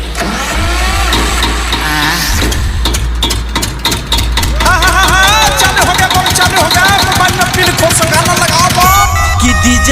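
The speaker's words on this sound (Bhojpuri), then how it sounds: "अभी हम तेल रह के जनरेटर चालू करते हैं" A diesel generator refilled with fuel starts up and runs with a low, rhythmic chugging rumble, and a loud DJ song soon plays over it.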